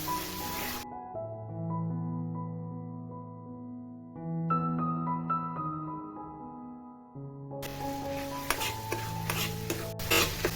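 A mushroom curry being stirred after gravy is added to the pan, with scraping and sizzling bursts at the start and end under steady background music.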